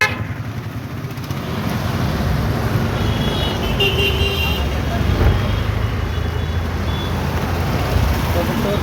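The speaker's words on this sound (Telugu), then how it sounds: "ట్రాఫిక్ సమస్య." Busy street traffic in Proddatur: a steady, close roar of engines and road noise runs throughout, with a few short horn toots rising above it around the middle.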